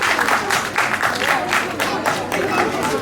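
Audience applause and clapping fill an indoor stage event at a student academy, dense and steady throughout with some crowd noise mixed in, welcoming a guest onto the stage.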